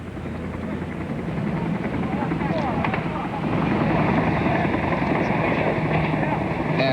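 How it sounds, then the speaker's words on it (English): Troop-carrying military helicopters over Panama City, a steady loud rotor drone with wind buffeting that swells slightly midway, heard alone without talk. "those particular helicopters appear to be troop-carrying helicopters"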